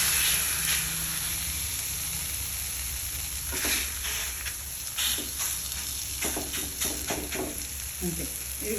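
Dosa batter made from mixed flours and cucumber cooks on an oiled griddle pan, giving a continuous close-up sizzle with crackling bursts and a faint background hum.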